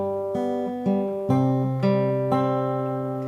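Guitar chords from a song, five strummed chords in an even, steady rhythm, each ringing clearly and decaying before the next, played alone and close.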